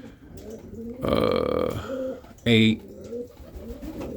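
Roller pigeons coo close by, with several throaty, wavering calls rising over background chatter, including one loud, deep coo partway through, while someone speaks at moments.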